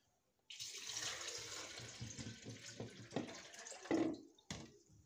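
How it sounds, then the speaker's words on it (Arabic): Water poured into a blender in a home kitchen, starting abruptly as a steady splashing stream that gurgles and changes pitch as the container fills, then stopping with a brief knock. "هنحط المية في خلاط"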